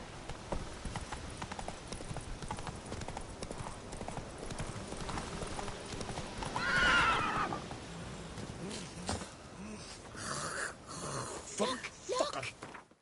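Horse galloping in The Witcher 3 on PS5, a steady rapid clip-clop of hooves running through the whole stretch, close and fairly loud, with brief voices and game sounds over it near the end.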